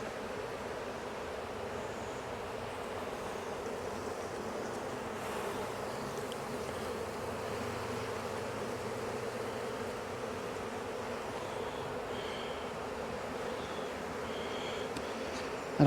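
Honeybees humming around an opened beehive during a brood check, a dense steady buzz close by that carries on unbroken without any talking.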